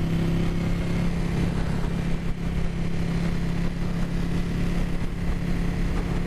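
A Ducati 959 Panigale superbike ridden on roads around Greenville produces a continuous mid-pitched engine drone mixed with heavy wind rush, loud and close for the whole stretch, with no speech.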